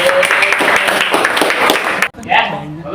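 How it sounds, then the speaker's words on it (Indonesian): Students in a school classroom clap together, a dense, loud patter of applause lasting about two seconds before stopping abruptly, followed by a brief moment of speech. "Tepuk tangan buat teman-teman kita yang hebat."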